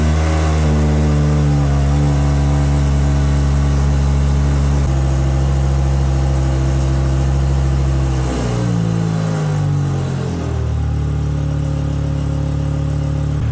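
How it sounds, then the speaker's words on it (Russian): A Volvo S60 engine running loud with a deep, rumbling exhaust leaking near the front wheel, idling steadily then revving briefly before settling again. "Отчетливо слышен выхлоп возле переднего колеса"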